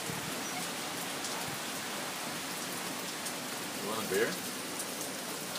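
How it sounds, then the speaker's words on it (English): Steady rain falls on a tropical island during a downpour, a constant hiss of drops hitting surfaces throughout while a person speaks briefly near the end. "It's gonna rain for A while."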